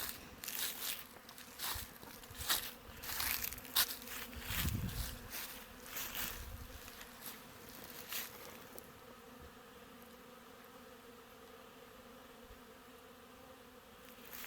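Honeybees buzz around the hives of an apiary, a dense continuous hum with individual bees passing close and loud at first, then the droning settles into a fainter steady background swarm.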